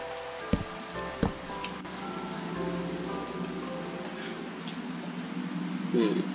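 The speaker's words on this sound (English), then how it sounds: "Oh, it's raining." Steady rain falls in the Minecraft video game, a soft continuous hiss of drops spread evenly throughout, with a couple of sharp blocky clicks near the start and a voice speaking over it.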